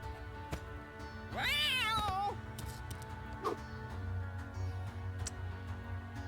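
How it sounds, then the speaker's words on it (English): A cat meow sound effect from the dungeon-crawling video game The Guild of Dungeoneering, a single wavering, rising-and-falling cry heard clearly over steady game music, with a brief later squeak. "We'll start with throwing a cat, because why not?"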